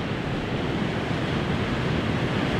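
Strong gusty wind buffets the microphone during a paramotor flight on a 5XS Dominator wing, a loud, steady broadband roar with no pauses and no talking.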